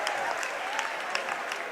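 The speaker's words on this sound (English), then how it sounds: "gets a nice round of applause from the visiting" Visiting fans at a high school basketball game clap in a steady round of applause, moderately distant, with faint crowd murmur underneath.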